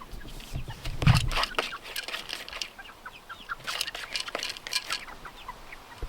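Chickens clucking in a backyard coop while they stand in and scratch at their feed. Intermittent clucks and brief bursts of activity come from nearby, with a short flutter of wings early on.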